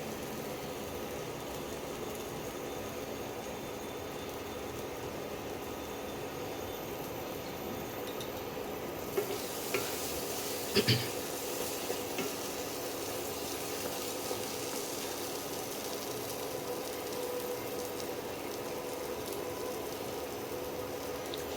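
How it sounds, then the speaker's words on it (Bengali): Spices are frying in oil for a coconut pomfret curry, a steady, even sizzle that runs the whole time, with a couple of brief utensil clinks partway through. "মশলা দিয়ে দেখো তেল ছাড়তে আরম্ভ করেছে"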